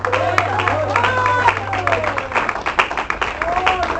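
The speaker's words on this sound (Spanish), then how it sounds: "Denle un aplauso al Señor." Clapping from a church congregation praising the Lord, scattered and uneven, mixed with crowd murmur and a low steady hum.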